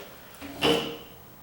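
A hollow core interior door is tilted back into place on its hinges during painting, giving one short woody knock and rattle after a faint scrape, heard alone and fairly quiet.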